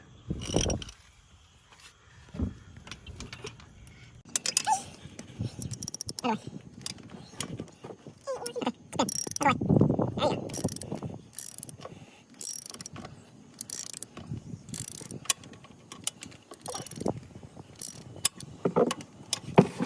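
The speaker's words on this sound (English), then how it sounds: "we're gonna put this wrench on the drain plug and take out the drain" A wrench works loose the oil drain plug on an ATV, giving repeated metallic ratcheting clicks and scraping turns in bursts close by, with brief quiet gaps, while a person speaks intermittently.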